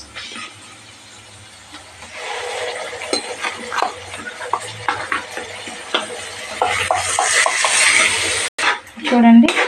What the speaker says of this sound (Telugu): పేస్ట్ వేసుకుంటున్నాను, మిక్సీ పట్టిన పేస్ట్.